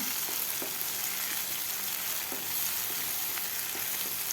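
Masala for shev bhaji sautéing in a pan, a dense, even hiss of frying with faint occasional stirring ticks, close and with no talk.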